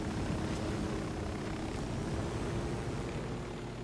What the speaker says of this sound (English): Not too close though, because they'll hear this massive helicopter